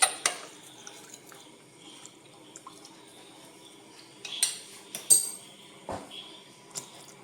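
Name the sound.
stirring custard powder milk mixture in pan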